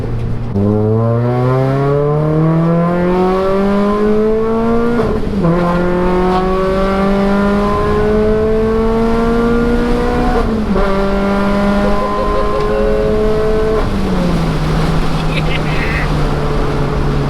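Road-legal Renault Clio rally car engine pulling hard through the gears, its loud droning note climbing and dropping at each shift, heard from inside the car with some talk underneath.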